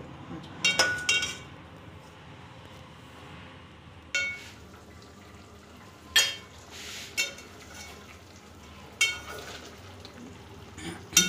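Petha pieces cooking on low heat in melting sugar syrup, with a quiet bubbling simmer and several sharp clinks of a spoon against the pan at irregular intervals, fairly faint overall.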